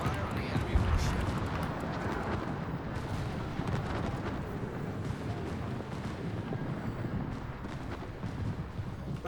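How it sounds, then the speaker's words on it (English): Naval gunfire in World of Warships, a steady, dense rumble of distant cannon blasts and explosions across the whole stretch, with a louder burst near the start and no voice over it. "Concentrate fire on the enemy warship."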